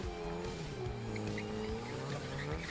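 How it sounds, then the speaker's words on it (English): A car doing a burnout roars steadily with high engine revs and sustained tire squeal, loud and close from start to finish, with no talking. "You doing a burnout."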